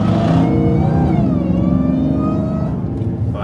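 Supercharged Ram TRX truck on the move, a steady loud whine riding over continuous engine drone for a few seconds, close and with no talking.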